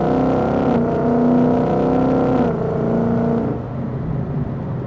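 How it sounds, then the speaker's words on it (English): Ford Mustang (2018-2023, 10R80 automatic) exhaust in Sport drive mode, a steady close rumble with a low droning tone that shifts pitch a few times, then eases off near the end. "You hear the exhaust get a little bit louder."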